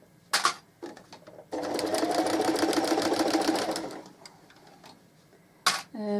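A sewing machine stitches a flat seam around a cushion cover, a steady rapid mechanical whir lasting a few seconds, framed by clicks and handling noises before and after.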